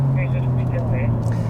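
Interior engine drone of a 2022 Hyundai Elantra N with its 8-speed wet dual-clutch transmission shifting quickly, a steady low hum with rising and falling tones as gears change, loud and continuous.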